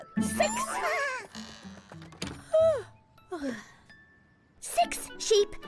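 Cartoon sheep bleat in a children's counting cartoon, several short wavering cries spaced across the clip, close and fairly loud, with brief gaps between calls and no other sound competing.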